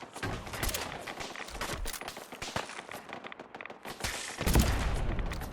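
Automated turrets firing in Fallout 4, a dense, continuous rattle of overlapping gunshots that stays loud throughout and swells into a heavier burst near the end.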